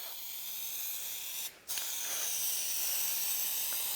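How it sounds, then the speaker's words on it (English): A short hissing burst of spray adhesive goes onto interior panels and rails during a Toyota 78 Series Landcruiser Troopy touring fit-out. One brief spray stands out over a steady background hiss, with no talking. "I'm going to spray these four, spray the rails"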